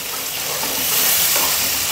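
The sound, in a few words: ground masala frying in oil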